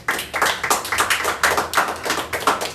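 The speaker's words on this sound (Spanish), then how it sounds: "Dame un aplauso, Señor, por eso, hermano." A church congregation claps in applause during a Spanish-language service, a loud run of rapid, uneven hand claps across the whole stretch with no speech over it.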